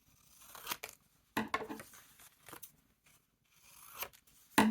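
Scissors snipping paper scraps for a Moleskine junk journal, several short separate bursts of close crisp cutting broken by quiet pauses, with a louder rustle at the very end.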